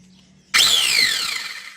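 Rewound electric motor armature with a nut on its shaft starting suddenly and spinning at high speed, a loud whirring whine that slowly drops in pitch, alone and close by.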